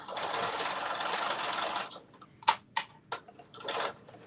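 A sewing machine stitches crosses onto a zipper pouch in a steady, dense run of rapid stitches for about two seconds, then a few short separate bursts and one final brief run.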